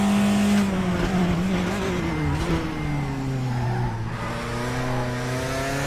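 Race car engine in RaceRoom screaming at high revs through a run of gear shifts, pitch climbing and dropping with each change, loud and continuous with faint tire noise.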